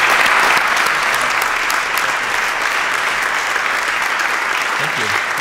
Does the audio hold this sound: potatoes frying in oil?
no